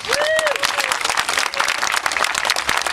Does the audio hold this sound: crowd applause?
yes